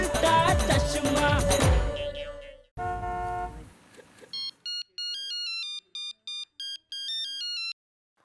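A telephone rings for an incoming call in a sitcom home: a bright electronic ringtone trill repeats in five or six short bursts, following a stretch of loud background music.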